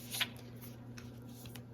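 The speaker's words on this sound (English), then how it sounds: "Give this a little shuffle." Tarot cards are shuffled close by in a quiet room, with a soft riffle early on followed by faint, scattered card flicks and rustles.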